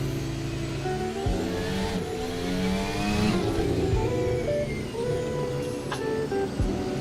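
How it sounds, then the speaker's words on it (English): A loud, droning car engine in a VR racing video game, revving and shifting pitch with gear changes as the car accelerates, heard alone for several seconds. "Oh, that's a little bit loud engine"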